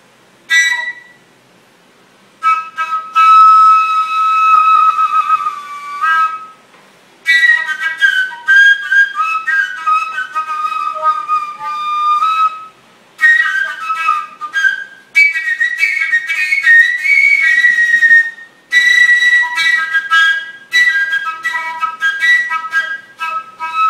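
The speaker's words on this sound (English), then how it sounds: "there's no holes on this flute, and yet there seems to be a scale. Well, that's the overtone scale" A breathy, holeless fipple flute plays an overtone scale of clear, high sustained notes stepping between pitches, in several phrases separated by short pauses.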